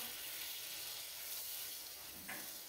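Butter sizzling in a hot pan for a salmon dish, a steady loud hissing crackle heard close and continuous throughout with no talking.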